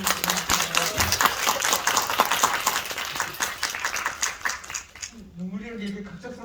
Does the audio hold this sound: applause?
yes